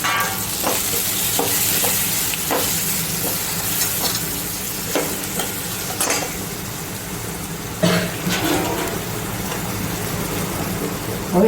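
Onions fry in a pan over low gas with a steady close sizzle, broken by intermittent scraping stirs and a few louder knocks of the spoon against the pan.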